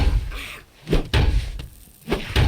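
Knocking on a door in the video game 7 Days to Die comes as several dull, heavy thuds at an uneven pace, close and fairly loud, with a faint background bed.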